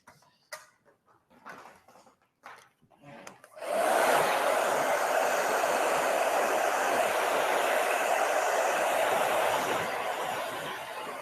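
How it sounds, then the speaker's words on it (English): A blow dryer drying hair in a salon switches on after a few seconds of faint thumps and sharp clicks, then roars steadily and loudly with a broad airy whoosh, easing slightly near the end. "I apologize for the blow dryer being a little bit loud."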